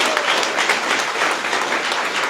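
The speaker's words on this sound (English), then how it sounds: "let's give one more big round of applause for everyone" A room full of people at a school board meeting gives a big round of applause, dense and sustained clapping heard fairly close throughout.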